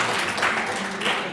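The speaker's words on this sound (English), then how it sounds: "we can give them our recognition by applause" Audience applause at an awards dinner and hall of fame induction, a short burst of steady clapping from a room of people with a faint voice mixed in.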